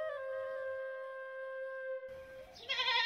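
Sirohi goats bleating on a rural farm, one long wavering bleat followed by a rising, harsher second bleat, close and clear with no talk.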